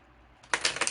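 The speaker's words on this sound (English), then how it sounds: "I haven't shuffled this deck in a while" A classic Rider-Waite tarot deck being shuffled close by, a quiet lead-in followed by a burst of rapid, crisp riffling clicks in quick irregular bursts.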